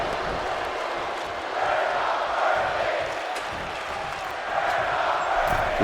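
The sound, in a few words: crowd cheering in the video game WWE 2K26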